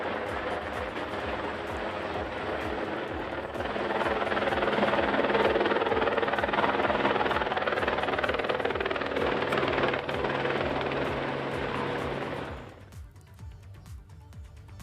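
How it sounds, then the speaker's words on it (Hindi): A survey helicopter fitted with special cameras flies overhead with a steady, loud rotor and engine roar. It holds for several seconds, then fades quickly toward the end. "हेलीकॉप्टर की मदद इसमें ली जा रही है।"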